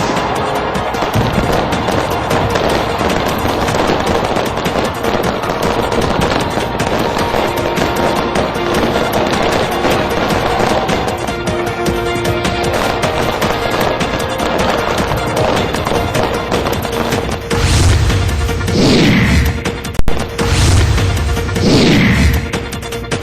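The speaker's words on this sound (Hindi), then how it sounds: "इस मौके पर हार्बर ब्रिज पर शानदार आतिशबाजी की गई।" Dense, continuous crackling and booming of a New Year's Eve fireworks display over Sydney Harbour Bridge, rapid bursts layered together, with a few whistling rockets rising near the end.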